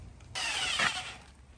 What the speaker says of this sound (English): we're going to go ahead and mix her up with the mixer